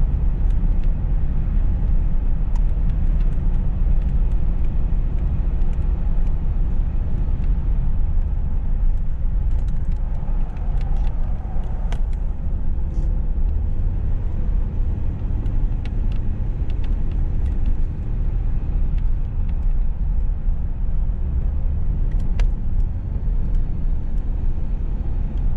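Inside a 1983 Oldsmobile 98 while driving, a steady, dense low road rumble and engine hum runs throughout with constant wind noise, fairly loud and unbroken, with no talking.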